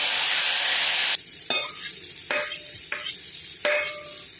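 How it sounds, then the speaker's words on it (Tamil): Banana is stirred in ghee over a low flame for halwa. A bright sizzling hiss gives way to a series of scraping spoon strokes, roughly one a second, heard up close. "சிம்மிலேயே வச்சு கலந்து கொடுங்க."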